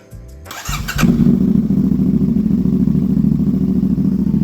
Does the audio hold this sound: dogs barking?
no